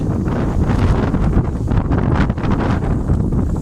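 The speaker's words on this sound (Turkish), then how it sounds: "Hava çok soğuk, çok rüzgarlı aşırı." Strong, cold wind in Aksaray, Turkey, bending tree branches, buffets the microphone in loud, continuous rushing gusts that roar and surge without a break.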